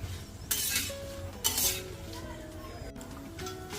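Dried chillies roasting in hot oil in a pan for a niger seed chutney, with soft sizzling, utensil scrapes and metallic clinks as they are stirred, close and fairly quiet.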